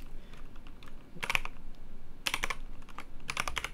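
Computer keyboard keys tapped in quick clusters while entering Blender shortcuts, three short bursts of crisp clicks separated by pauses, close and fairly quiet in a still room.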